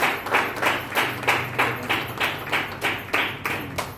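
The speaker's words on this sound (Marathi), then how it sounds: "जोरदार टाळ्या झाल्या पाहिजेत" Audience applause at a women's gathering in Ambegaon Pathar, Katraj, with steady rhythmic hand clapping from a crowd that keeps an even beat throughout.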